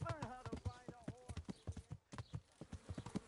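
Steady, rhythmic horse hooves clip-clopping in Kingdom Come: Deliverance II, close and fairly loud, with a voice talking over the hoofbeats throughout.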